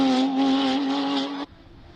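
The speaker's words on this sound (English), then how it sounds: "Also, very unique 5-cylinder turbocharged sound." Classic five-cylinder turbocharged race car at a Cape Town speed event, a loud, close, steady engine wail held for over a second before it cuts off sharply, leaving faint background noise.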